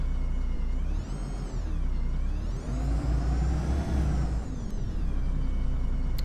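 A city bus engine in the OMSI 2 driving simulator drones steadily while an air brake hisses and releases, with the pitch of the engine rising and falling. No voices.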